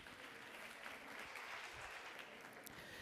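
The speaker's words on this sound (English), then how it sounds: "another round of applause" An audience claps through an even, sustained round of applause at a student leadership awards ceremony, dense and fairly soft as if heard from across the hall.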